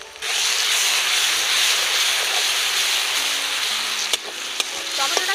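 Grated tomato frying in a pan after onion, ginger and garlic, for a village-style Kadaknath black chicken curry: a loud, continuous close sizzle that starts abruptly, with a couple of faint spoon clinks near the end.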